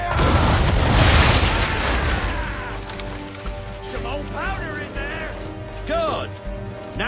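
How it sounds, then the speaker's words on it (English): Ship cannon fire in the Assassin's Creed 3 video game, heavy booming blasts and crashes over a dense battle din, with game music tones running through and voices mixed in. "Now, aim all guns at her bow and do as much damage as possible."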